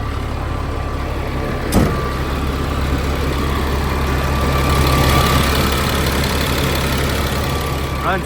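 A 2001 Freightliner FL80 bucket truck's diesel engine idles steadily with a deep, even rumble close by, marked by one sharp knock early on.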